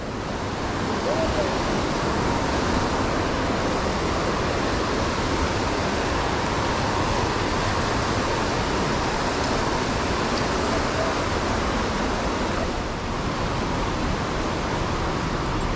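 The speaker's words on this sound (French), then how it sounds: "Et là, il y a une cascade." A waterfall in a river gorge along the Vièze pours with a constant, broad rushing roar, close and loud, steady for the whole stretch with only slight shifts in intensity.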